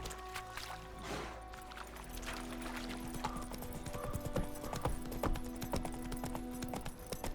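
Roach, a horse in The Witcher 3, gallops in steady clip-clop hoofbeats that carry on throughout, close and fairly loud with a few faint snorts, no talking over them.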